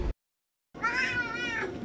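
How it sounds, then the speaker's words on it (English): A very large domestic cat, a record-holding tall housecat, gives a long drawn-out meow with a wavering pitch, close and clear after a brief burst of noise and a gap of silence. "Karen and Pam, this is one big cat"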